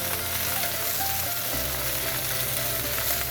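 Apple slices hit a hot pan with browned Brussels sprouts and bacon, a loud, continuous sizzle that swells as they are tossed around, close and steady with no talking.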